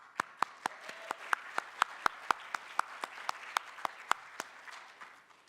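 Sparse, slow clapping at a medical college convocation and awards ceremony, a handful of distinct, evenly spaced claps echoing in a large hall, moderately quiet with no speech over them.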